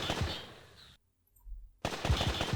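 Advanced combat gun firing in the video game Incubation: dense, loud bursts of rapid automatic fire, broken by a brief near-silent gap before the shooting resumes just as hard.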